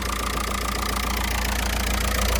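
A Peugeot 2-litre diesel engine idles close up with a loud, steady rhythmic clatter and low throbbing hum, with no voices.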